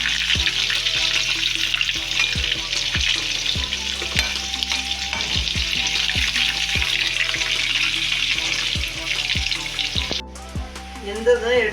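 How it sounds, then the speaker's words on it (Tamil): Pieces of dragon chicken hiss and spit in hot oil in a pan, punctuated by frequent close scrapes and clinks of a spatula turning them, with a brief splash of running water near the end. "இதை ஒரு 5 நிமிஷத்துக்கு திருப்பி விட்டு வேக வச்சுக்கோங்க"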